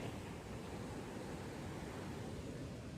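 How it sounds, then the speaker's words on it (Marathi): A constant, full rushing of flowing water, like a stream close by, steady and unbroken with no voices. "आणि इकडे मस्त की झरा वावतोय."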